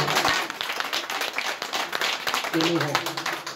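An audience at a conference claps and applauds for Romane, a steady spread of hand claps filling the room, with a voice speaking over the end of it.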